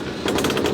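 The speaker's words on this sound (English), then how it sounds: "Now you're gonna winch it." A winch pulls a mini tank with a loud, close, rapid mechanical rattle that starts abruptly and runs in a continuous, even rhythm with no talk over it.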